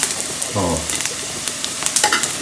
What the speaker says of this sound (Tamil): கடுகு, மிளகா போட்டுட்டு அப்படியே பெருங்காயம், உளுத்தம்பருப்பு எல்லாத்தையும் ஒன்றா வதக்கின்றேன்.